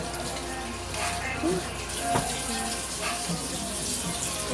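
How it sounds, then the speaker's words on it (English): Tap water runs steadily into a sink while something is washed under it, a constant close splashing wash with a few faint clinks and no talk. "So I'm gonna wash this right quick."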